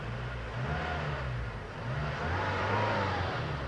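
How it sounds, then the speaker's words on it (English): 2004 Toyota Tacoma engine in park with a throttle body idle problem, revved gently up and down in a few slow rises and falls, a steady close mid-pitched engine drone. "We'll go ahead and give it a little bit of throttle up and down."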